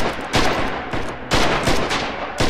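Machine gun fire rings out in the Rising Storm war video game: several rapid, loud bursts of automatic shots, separated by short pauses.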